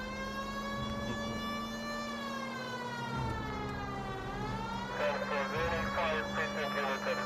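Police car siren in the L.A. Noire video game, a steady rising and falling wail holding loud throughout under engine rumble, with a voice talking over it briefly.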